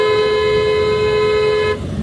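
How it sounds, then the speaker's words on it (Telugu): A single long, loud car horn blast in traffic, held for nearly two seconds, then cutting off to low engine rumble. "కొట్టండి హార్న్"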